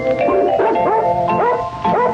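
A poodle and a schnauzer in a dog film yip and bark in quick, high, whining bursts that overlap in a lively, close cluster.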